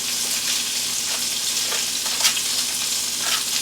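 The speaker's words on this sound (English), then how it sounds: "We're going to throw some butter in the pan." Half a stick of butter melts in a hot pan, giving a steady bright sizzle with faint crackling pops, moderately loud and uninterrupted by talk.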